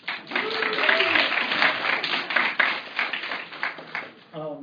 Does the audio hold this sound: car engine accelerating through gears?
no